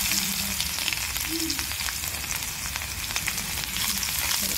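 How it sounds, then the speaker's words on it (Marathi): Mustard seeds, cumin and crushed garlic sizzle steadily in hot oil for a ridge gourd chutney, a close, continuous crackling fry with small pops throughout. "असा घालून घेऊया मोहरी, जिरं आणि हा टेचलेला लसूण आहे।"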